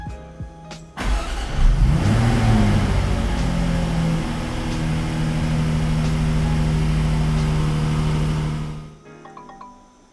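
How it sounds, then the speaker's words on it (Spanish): A 2019 Jaguar F-Type Coupé P340 starts up in Dynamic mode with its exhaust valves open: a starter whir, then a loud flare of revs settling into a steady, rumbling idle that holds for several seconds before cutting off, no talk. "si queremos encender el vehículo, lo propio sería encenderlo en el modo Dynamic, el cual nos abre las válvulas de escape"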